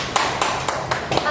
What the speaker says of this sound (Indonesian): berikan tepuk tangan dulu kepada Edi